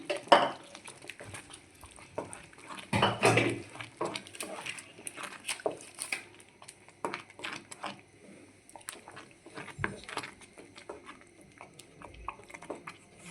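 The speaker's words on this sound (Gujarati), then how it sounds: "આ ખીચડી ઉમેરી દેશું આવી રીતે આપણે ઉમેરી દેવાની અને મિક્સ કરી લેવાની" Spinach khichdi being stirred in a pot, giving irregular scraping and clinking of a spoon against metal with soft wet patter, fairly close and moderately loud, with no talking.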